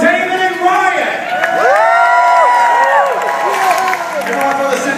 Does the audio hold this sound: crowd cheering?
yes